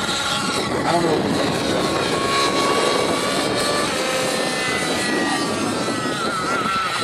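A radio-controlled model helicopter flies steadily nearby with a constant whining rotor and engine drone, holding a loud, even level throughout.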